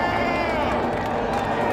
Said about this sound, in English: The crowd is onto that too and expressing their appreciation as they pass the start-finish line.